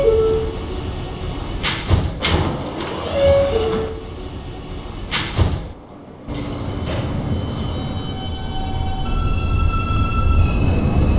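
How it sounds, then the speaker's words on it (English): Subway doors of an R160A train on the Coney Island-bound Q local line in the OpenBVE simulator slide shut with a few chimes and clunks over steady rail rumble. "Stand clear of the closing doors"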